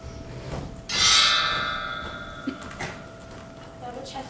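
A single bell strikes in a high school stage production of Macbeth, a bright ringing tone that fades slowly over a few seconds, with faint quieter sounds and no clear talk.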